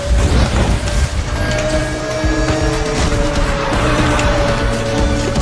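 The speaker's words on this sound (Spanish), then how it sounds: "Que no patine el carro." A car in the racing video game Need for Speed The Run drives on snow, with a loud, continuous engine roar and a sustained tire-skid hiss running steadily throughout, close and up front, with no talking.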